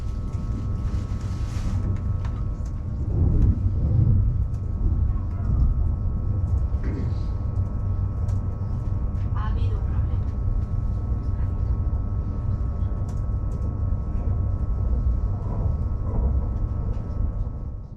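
Steady low rumble of a Renfe S-103 high-speed train gathering speed out of Madrid, a continuous broadband roar with faint rattles throughout, heard from inside the carriage.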